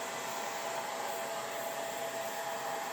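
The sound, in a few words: hairdryer on low drying a painting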